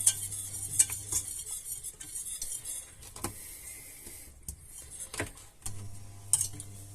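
A spoon scrapes and stirs through thick polenta in a pot over low heat, with irregular soft knocks and scrapes against the sides, close by, no talking.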